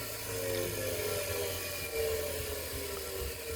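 An LG automatic washing machine motor, nine-wire type, runs on its own outside the machine on 220 V mains, giving a steady close whirring hum with a slight rise in intensity partway through.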